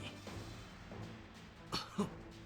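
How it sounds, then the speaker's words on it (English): Two short, fairly quiet coughs from the video game Digimon Survive near the end over a soft, steady background hum. "What's with that cough?"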